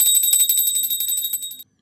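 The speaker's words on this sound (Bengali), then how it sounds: "ঘন্টাটা বাজিয়ে দিল" A small hand bell is rung rapidly and continuously during a home puja aarti, giving a bright, high, shimmering ring for under two seconds that then stops abruptly.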